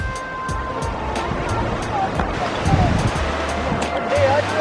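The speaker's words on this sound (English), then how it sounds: "So this is the main waterfall." Waterfall in Palampur, a steady loud rush of falling water filling the scene, with people talking nearby over it and occasional clicks and knocks.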